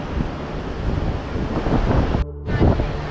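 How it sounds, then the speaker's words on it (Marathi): Water pours heavily over a dam beneath a bridge after the water level has risen, making a loud, steady roar with a rushing wash that holds throughout. A short dropout of the high end interrupts it near the end. "पाणी भरपूर वाढलं त्यामुळे पाणी पडतं"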